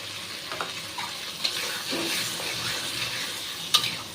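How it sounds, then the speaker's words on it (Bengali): Whisked sour curd is stirred into a simmering dhokar dalna curry in oil, giving a soft, steady sizzle with a few light spoon scrapes and one sharp metallic clink near the end. "আর টক দইটাকে খুব ভালো করে মিশিয়ে নেব"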